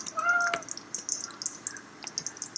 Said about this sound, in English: Hello, brown cat.